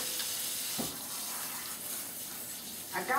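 Water runs from a sink tap in a steady, soft hiss with faint splashing, fairly quiet and continuous throughout.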